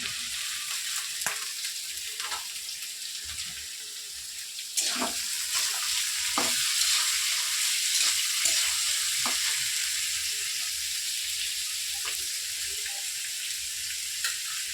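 Diced potatoes fry in a pan for chire pulao, giving a steady close sizzle with occasional clatters and scrapes of stirring.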